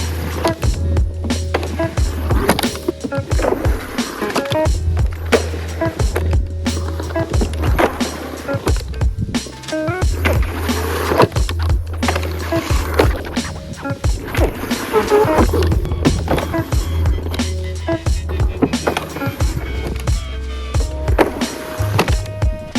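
A Onewheel does tail grinds along a rail, its fitted grind guard scraping and clattering in a long run of rough, gritty contact noise with repeated knocks and thumps. A steady low motor hum sits underneath, and there is some talk.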